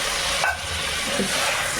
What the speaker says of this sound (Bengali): এবার আমি এর মধ্যে একটু জল দিয়ে দেবো মশলাটা কষানোর জন্য